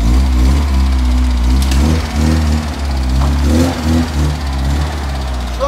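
The engine of a restored car that had rolled over and been repaired runs steadily at close range while the car backs out, a loud, even idle with slight rises in revs.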